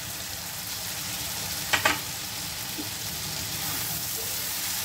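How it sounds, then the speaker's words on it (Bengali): Spices and eggplant frying together in a pan for a fish curry, a steady moderate sizzle with a brief burst of scraping stirring near the middle. "মিনিট দুয়েক এটাকে খুব ভালোভাবে আমি কষিয়ে নেব এবং মানে বেগুনটাও একটু ভাজা হয়ে যাবে"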